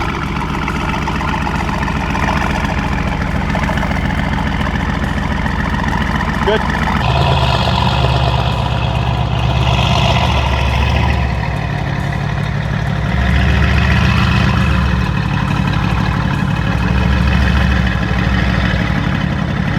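A Mercedes-AMG GT S with turbo running at idle, a deep, steady engine rumble throughout that grows fuller about midway, with people talking over it.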